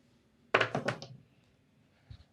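A pair of dice lands on a craps table in a burst of close, hollow knocking bounces that quickly fade, followed by a faint muffled thud a moment later.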